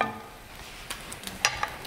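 Brandy hitting hot onions in a pan, a soft sizzle with a few sharp crackles and pops near the end, close and fairly quiet.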